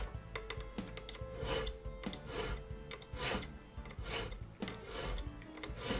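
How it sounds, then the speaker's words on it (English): A hand file rasps across the end of a brass taper pin held in a pin vise for a French Japy Freres mantle clock, repeated rhythmic strokes close by. "we file the end flat"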